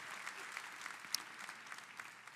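Church congregation applauding, a steady wash of many hands clapping at a moderate distance, fairly quiet and continuous throughout.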